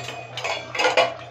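Chopped tomatoes go into a pan for chicken biryani with a few clattering scrapes and knocks of metal utensil against cookware, brief and close, over a low steady hum.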